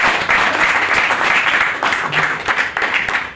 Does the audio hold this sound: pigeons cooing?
no